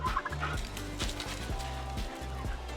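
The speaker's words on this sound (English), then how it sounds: "All these turkeys are doing good." Farm turkeys gobble in quick, repeated bursts, several birds calling one over another at moderate distance, with no talking.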